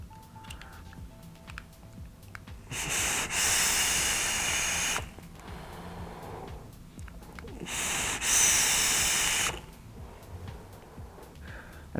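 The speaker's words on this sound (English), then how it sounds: "let me go ahead and have a couple vapes on it real quick" Two long exhaled vape clouds hiss from a FumyTech Vendetta RDA coil build at 80 watts, 0.12 ohm, with the airflow fully open, each breathy rush lasting about two seconds with a quiet gap between.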